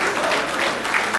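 Audience at a humorous poetry recital applauding, a short dense burst of loud clapping that cuts off abruptly.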